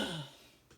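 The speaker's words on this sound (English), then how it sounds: "I have to clear my throat." A single short throat clearing, a brief rough rasp that fades quickly, close and quiet, alone.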